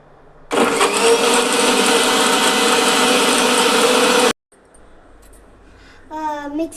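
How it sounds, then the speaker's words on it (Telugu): A mixer grinder whirs loudly and steadily for about four seconds, blending grapes, sugar and water into juice, then cuts off abruptly, leaving quiet room sound and a voice talking. "ఇప్పుడు ఇది మూత పెట్టేసి మిక్సీ చేసేస్తాం"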